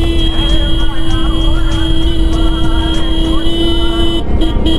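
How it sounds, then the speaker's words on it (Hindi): A long, loud, sustained car horn blares steadily over heavy engine and road noise on a snowy mountain road via Jot Pass to Khajjiar, ending with a brief break and short follow-up toots. "तो मैं इतने हॉर्न इसलिए बजा रहा हूँ"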